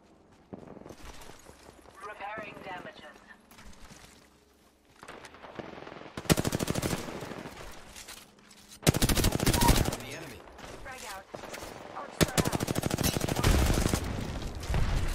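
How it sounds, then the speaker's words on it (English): Enemy gunfire in an Apex Legends match, loud rapid machine-gun bursts rattling in three long volleys after a quieter opening, with a voice talking in between. "The enemies are shooting at me."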